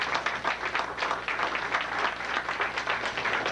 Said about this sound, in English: give the good life a good round of applause for letting us have this program